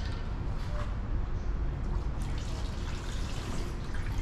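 Engine Ice Ice Water coolant concentrate draining from its pack into a plastic jug, a steady close trickle and pour running the whole time with no speech over it.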